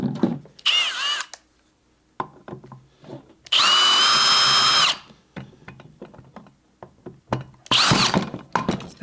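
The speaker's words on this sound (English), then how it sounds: "I'm just going to start to unscrew these and then use the drill for the rest" A cordless power drill buzzes in several loud bursts while removing screws from an ADJ Element Hex IP light fixture, with clicks, clunks and handling noises between the bursts.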